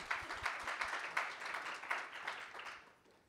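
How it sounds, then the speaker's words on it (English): Audience applause at a talk on future cities, a steady wash of clapping with a few sharper bursts, moderately distant and fading out toward the end, with no voices over it. "I think that deserves a round of applause."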